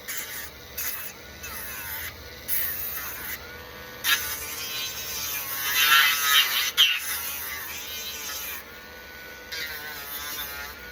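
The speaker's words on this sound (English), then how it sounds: "Dremel tools, I tell you what, they come in handy" Dremel rotary tool buzzing steadily as it cleans up a detailed paper model car, a continuous high whine with small shifts in pitch and intensity, close and alone with no talking.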